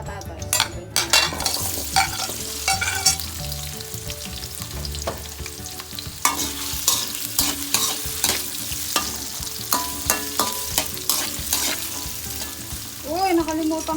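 Carrots and potatoes being stirred into pork menudo in a hot pan, loud frying sizzle broken by repeated scrapes and clacks of a utensil against the pan, close up.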